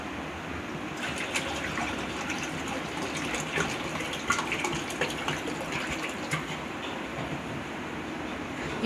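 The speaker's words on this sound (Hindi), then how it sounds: "अब इसमें हम पानी डाल देंगे।" Water gushes steadily as it is poured into a pot of mutton pieces for stock, a continuous close, moderately loud splashing pour with no talk.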